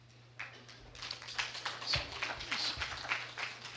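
An audience at a city council meeting breaks into applause, a faint start swelling into steady scattered clapping that continues to the end at moderate distance.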